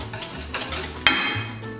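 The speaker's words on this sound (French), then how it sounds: "J'incorpore donc le beurre fondu dans la pâte à crêpes." Melted butter is stirred into crepe batter with a utensil scraping and clinking against the bowl in uneven strokes, close and moderately loud, with one sharper knock midway.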